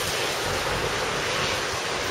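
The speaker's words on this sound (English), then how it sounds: "Usually I do this from outside the pub, but it is pouring down." Heavy rain pouring down around a bandstand in Caerphilly, a steady, dense broadband hiss that fills the whole clip without pause, close and loud, with no voices.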